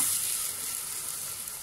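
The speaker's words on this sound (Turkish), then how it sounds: "yarım çay bardağı sıvı yağ ve bir orta boy soğanı pembeleşene kadar kavuracağız" A medium onion frying in about half a tea glass of vegetable oil gives a steady, close, continuous sizzle with an even hiss and no talking.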